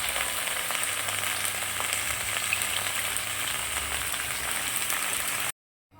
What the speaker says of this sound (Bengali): পটলটা বেশ লাল লাল করে ভেজে নেব।